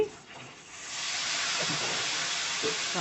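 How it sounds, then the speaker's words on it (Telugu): Dry prawns fry in hot oil with turmeric for a gongura curry, giving a steady close hiss and sizzle that swells after a quieter start and holds evenly to the end. "తర్వాత మొత్తం ఫ్రై చేయండి చక్కగా ఫ్రై అవ్వాలి"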